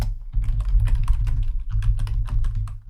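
Steady rapid keystrokes on a computer keyboard while code is typed, a dense close clatter running the whole time with one short lull partway, no talking.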